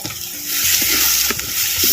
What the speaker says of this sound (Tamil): எண்ணெயில் நல்லா வதக்குறேன் அப்படியே